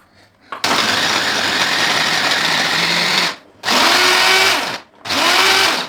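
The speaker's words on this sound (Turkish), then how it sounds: "Hepsini şimdi robotumdan geçireceğim." A kitchen food processor whirs loudly as it chops onions and garlic for homemade lahmacun, running in three close, steady bursts separated by brief pauses, the motor pitch dipping and recovering with each restart.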